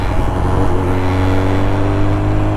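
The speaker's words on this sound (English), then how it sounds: "let go of the clutch slowly, bike starts rolling, and then you slightly give it a little bit of throttle" A motorcycle engine hums loudly and close in a steady, even drone while riding in low gear, with no clear gear change or strong rev rise.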